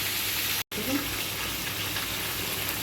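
Rinse water from washing the meat bowl and mixer jar poured into a pan of chicken korma, producing a steady broadband sizzle and watery hiss that runs throughout with one brief cut near the start.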